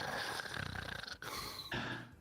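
A voice imitating loud snoring during a tabletop role-playing session, rough rattling breaths in a steady pulsing rhythm, close to the microphone, with a brief pause between snores.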